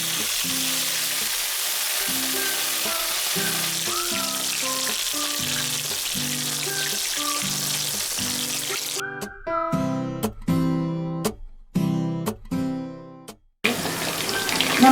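Marinated chicken 65 pieces, coated in freshly ground pepper and cumin, dropped into hot oil, setting off a loud sustained sizzle that surges into a harsher crackling burst partway through.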